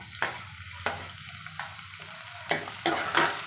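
Chopped onions frying in hot oil with cumin seeds, a continuous sizzle broken by several scraping stirs at irregular intervals, close and clear with no voices.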